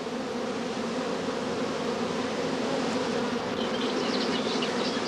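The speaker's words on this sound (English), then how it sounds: "the bees form a dense covering on the comb" A dense, continuous buzz of many honey bees covering a comb close by, steady and unbroken throughout with no voices.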